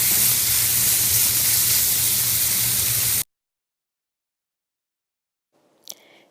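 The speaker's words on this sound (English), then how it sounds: "So I sear it on one side, leaving it on high, flip it over while it's still on high." A dry-aged, grass-fed ribeye sears on high heat in a hot pan, giving a loud, steady sizzling hiss that cuts off abruptly, followed by silence and a brief faint clink.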